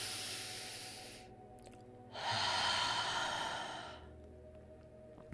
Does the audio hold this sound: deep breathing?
yes